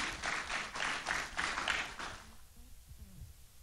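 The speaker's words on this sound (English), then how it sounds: "Give him a round of applause as he comes on stage" Applause at the Africa Climate Investment Conference in Nairobi as a Nairobi Securities Exchange manager walks on stage, a steady burst of clapping for about two seconds that then fades into room quiet.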